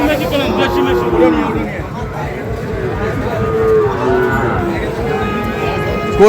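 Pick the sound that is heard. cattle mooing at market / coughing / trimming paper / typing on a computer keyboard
cattle mooing at market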